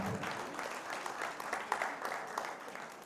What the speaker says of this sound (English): Y'all go ahead and clap it up for us one more time.